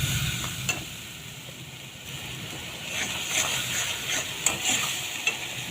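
A pan of rohu fish curry sizzles steadily, with the oil separated from the spices, as water goes in. A bright frying hiss continues throughout, broken by a few sharper crackles and stirring scrapes.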